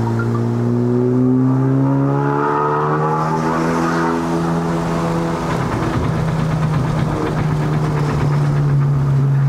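The engine of a Honda Civic Type R FK8 tuned to 353 whp rises and falls in pitch, heard up close and loud, with a steady droning tone that climbs and then settles.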